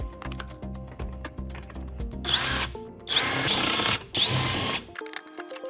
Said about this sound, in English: It only takes a couple seconds with a good drill.